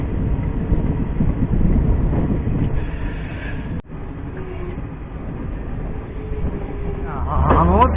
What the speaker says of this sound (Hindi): हम लोग की जो ट्रेन है वो प्लेटफॉर्म संख्या 2 पे पहुंची है।